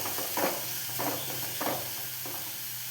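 Sliced onions sautéing in a pan, a continuous soft sizzle broken by four distinct bursts of stirring as a spoon scrapes through them, close and unaccompanied by speech.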